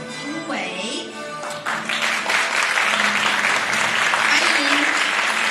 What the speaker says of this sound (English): Let's give a round of applause for Ying Wei.